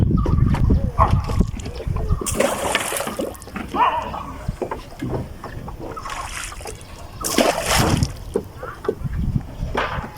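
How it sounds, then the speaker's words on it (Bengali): A wooden boat being rowed through the river waters of Chalan Beel, with a few distinct splashing surges from the oar strokes between quieter stretches of gurgling water. "দেখতে পাচ্ছেন এই যে নৌকা বেয়ে চলেছেন"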